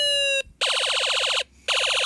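An electronic siren from a Snap Circuits sound module, in the fire-engine, European and machine-gun modes, sounds loud and close as a rapid warbling electronic wail. It cuts off briefly twice, then resumes.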